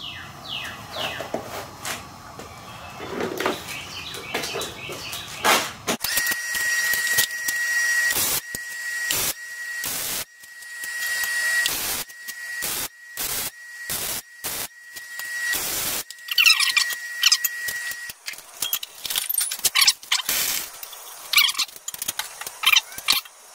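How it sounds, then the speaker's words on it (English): Welding a washer into a collar, heard as crackling, sputtering bursts in repeated short runs with a steady high hum during the welds and pauses in between, close and fairly loud. "I'm going to just weld this together here, and this will form my collar."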